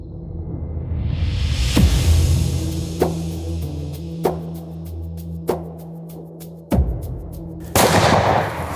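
A gunshot is fired at a buffalo bull on a hunt in Zimbabwe. One loud sharp report rings out over an outdoor rumble, and several further sharp cracks and bangs follow at intervals.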